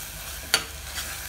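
Chicken drops into a pan of sautéed tomatoes for chicken soup, giving one sharp clatter followed by a soft, steady sizzle. The moment is close and very brief.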